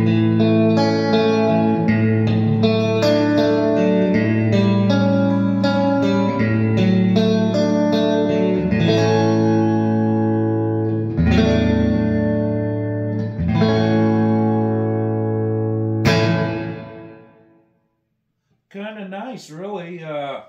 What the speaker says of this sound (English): So, let's see what the reverb does.